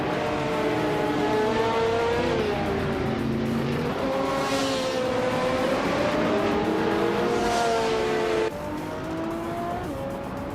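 Race car engines roar continuously on track during a race that includes a 1995 Marcos LM 600, steady high revving with pitch swells and shifts as cars run close, loud and without talk.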